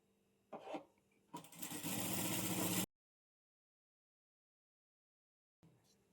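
Sewing machine stitching a fold on fabric, short bursts then a steady loud whirring run that stops abruptly into silence, with faint noise returning at the end.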